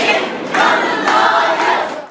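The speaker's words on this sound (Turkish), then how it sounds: "Mahkeme çıkışında aileye destek veren kalabalık emsal karar istiyoruz sloganları attı ve alkışlarla davaya sahip çıktı." A crowd outside a courthouse shouts slogans in unison in support of a family, loud rhythmic chanting bursts repeating about every half second.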